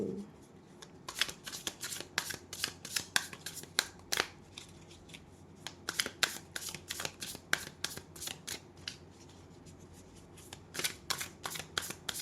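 Tarot cards are shuffled by hand in quick, crisp riffles and flutters, with irregular bursts of snapping card edges close to the ear and no speech.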